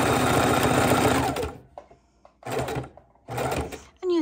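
A sewing machine stitches a fidget quilt with a fancy decorative stitch, running in a loud close burst of about a second and a half, then two shorter bursts separated by quiet pauses with faint handling sounds.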